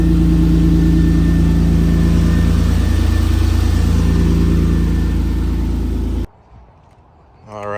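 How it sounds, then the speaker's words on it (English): A freshly started car engine runs loud and close with a steady deep rumble and slight rises in revs, then cuts off abruptly, leaving near silence before a voice begins at the end. "I got a little too excited yesterday after I started the car."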